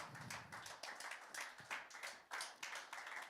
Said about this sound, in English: Can we give another big clap offering for the Lord this morning?